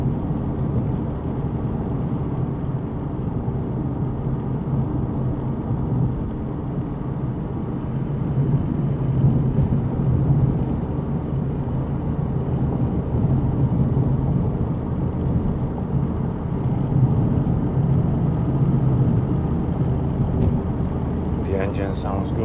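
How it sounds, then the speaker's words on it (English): A car engine drones steadily while driving on a mountain road, a continuous low rumble with road noise throughout, fairly close and even in level, with talk partly over it. "the engine sounds good, so that's great. It is healthy."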